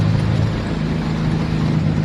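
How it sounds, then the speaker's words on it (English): A VW Fastback revving as its wheels spin on snow, a steady loud engine drone with a constant low rumble, close and continuous. "See, now I'll spin the wheels."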